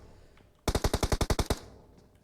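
Automatic gunfire from a PUBG Mobile esports match, a rapid burst of about ten sharp shots in quick rhythm, fairly loud yet with a distant edge, standing alone between quiet stretches.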